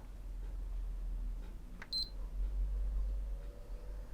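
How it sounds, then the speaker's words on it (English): A PlayStation 3 Super Slim console, model 4003, gives a single short electronic beep from a nearby bench during HDMI port repair, with a faint click just before it and quiet room noise around it. "1 beep."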